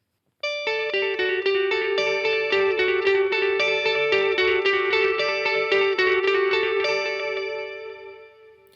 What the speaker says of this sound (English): Let's turn on a delay setting.